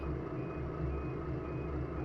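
Level crossing barrier warning beeps sound in Train Sim World 5, a quick steady string of alarm tones over a low rumble of engine and traffic, heard alone with no talk.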